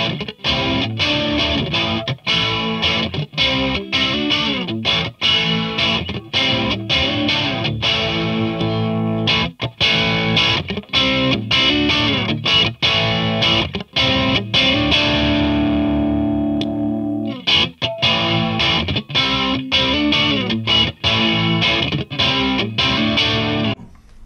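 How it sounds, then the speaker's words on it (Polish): An electric guitar on the neck single-coil pickup runs through a CaLine Lucky 7 Seven Modes modulation pedal with a light chorus-like shimmer over mild overdrive, playing loud, continuous strummed chords and phrases with brief pauses and no talking. "Efekt lekko tak działający chorusowo."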